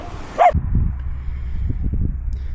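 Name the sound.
dog barking at the beach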